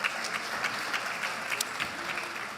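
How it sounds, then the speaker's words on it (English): Audience applause at a live talk event: steady, dense clapping from a crowd, fairly loud, with no voices over it. "Round of applause from my assistant."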